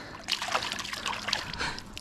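Water splashes and trickles as a rainbow trout is released back into a river, with close, uneven sloshing and dribbling throughout the short moment.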